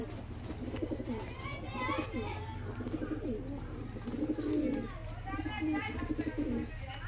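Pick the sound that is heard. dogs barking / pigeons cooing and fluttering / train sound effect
pigeons cooing and fluttering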